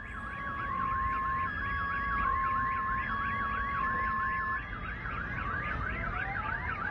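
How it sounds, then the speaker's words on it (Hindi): Sirens wail in Kharkiv during an attack, a steady rising-and-falling warble repeating in rapid cycles alongside a sustained tone, moderately distant and continuous, with no voices. "सायरन की आवाजें भी सुनाई दे रही हैं"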